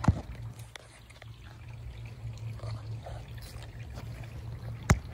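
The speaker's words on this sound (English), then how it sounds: "The water is coming from the house." Water pours steadily from a house pipe outdoors in a thin continuous trickling stream at close range, with a couple of sharp knocks at the start and end.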